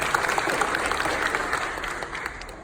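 Audience applause at a commencement speech, a dense steady clapping from a large crowd that carries on evenly before easing off slightly toward the end.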